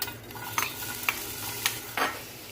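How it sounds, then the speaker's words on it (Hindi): Onions tossed into a little oil in a pan for an egg omelette give a steady low sizzle, with a few sharp stirring scrapes at intervals and no voices. "अब हम इसमें ये प्याज डालेंगे"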